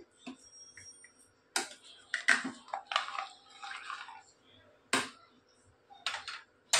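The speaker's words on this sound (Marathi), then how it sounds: "मिक्स करून घेऊ छान." Mutton gravy thinned with hot water is stirred in a small pressure-cooker pot, giving a handful of separate scraping and clinking strokes of a spoon against the metal, close and irregular, over a quiet background.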